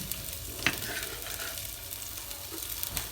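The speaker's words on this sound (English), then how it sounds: "I'm just starting off the onions and the chili." Onions and chili start frying in a hot pan for spaghetti bolognese, a soft continuous sizzle with an occasional sharp scrape or clink, close but fairly quiet and without talk.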